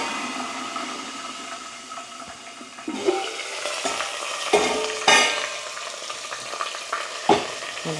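Curry leaves, mustard seeds and cumin frying in hot oil give a steady crackling sizzle, broken by sharp spattering bursts and stirring clatter as the leaves hit the pan, with no talking.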